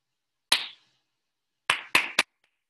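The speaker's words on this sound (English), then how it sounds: "Okay, you can clap." Hand clapping in a quiet room: one sharp clap, a pause, then three quick claps in a row, close and crisp against silence.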